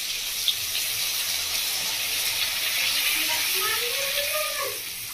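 Watered-down mustard paste is poured into a hot pan for a bhola fish curry, setting off a loud, continuous hiss and sizzle that swells and fades close by, with a voice talking briefly over it.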